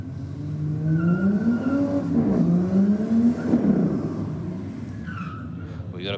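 Two Barra-engined race cars pull up to the start line with a loud, rumbling idle whose pitch wavers and rises as they creep forward, while people talk over the engines.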